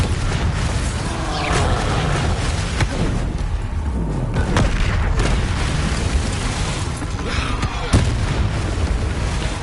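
Spell blasts from the Bombarda charm in Hogwarts Legacy go off as loud booming explosions, with several heavy impacts and rumbling debris across a busy, dense battle soundscape.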